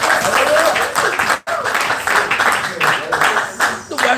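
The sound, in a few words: congregation applauding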